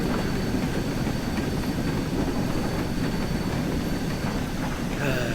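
An LMS Fowler 4F steam locomotive hauls a freight train up a gradient on the West Somerset line in Train Sim World, producing a loud, continuous rumble and rolling clatter that stays steady throughout.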